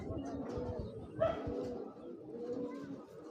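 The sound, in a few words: Jelly punky female pigeon cooing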